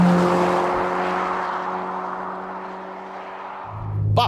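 A Ferrari Roma's engine, paired with an 8-speed gearbox, holds a strong harmonic drone that gradually eases and fades, then surges back loudly as it revs up again at the very end.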